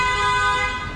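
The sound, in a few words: car horns honking in street traffic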